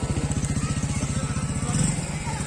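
A motorcycle engine putters close by in a fast, even rhythm of pulses, loud and steady for a couple of seconds with no talk over it.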